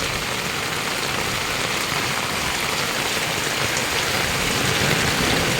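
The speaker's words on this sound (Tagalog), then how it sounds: "Lakas ang ulan." Heavy rain pours down steadily during flooding from Wawa Dam, a dense continuous hiss of drops drumming on surfaces, loud and close with no pauses.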